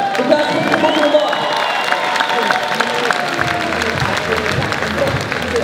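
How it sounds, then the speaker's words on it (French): A boxing-match crowd in the Johan Noizette vs Jurica Skoranec bout claps and cheers in a sustained wash of applause, while an announcer's voice carries over the noise. "Allez, applaudir encore une fois, monsieur, pour le plaisir."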